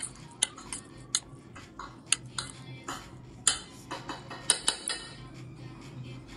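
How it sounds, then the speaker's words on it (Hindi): A spatula or spoon mixes sweet potato salad in a bowl, giving irregular clinks and scrapes against the dish, sharp ticks spaced through a quiet background with no talking. "इसे हम स्पैचुला की मदद से या स्पून की मदद से अच्छे से मिक्स कर देंगे।"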